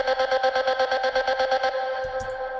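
A rhythmic, pulsing vocal-like tone with a heavy, squashed reverb tail, repeating in even beats before cutting off into a brief ambient decay.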